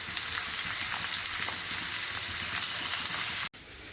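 Prawn curry frying and sizzling in a pan as it is stirred, a close, continuous loud hiss and crackle with no talking, cutting off abruptly near the end.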